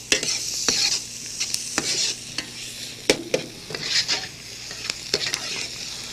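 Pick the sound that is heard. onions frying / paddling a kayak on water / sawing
onions frying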